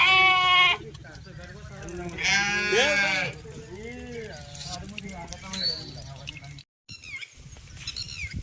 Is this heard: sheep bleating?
yes